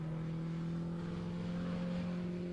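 Centaur Mark 16 historic 750 Formula race car engine drones steadily at a distance on a circuit, a constant buzzing tone with no clear rise or fall.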